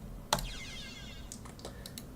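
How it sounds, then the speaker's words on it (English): Browser tab closing in Opera GX with a custom sound theme: a single sharp click burst followed by a soft sweeping chime tail, then a few faint light clicks, close and fairly quiet. "this is the sound of me closing a tab."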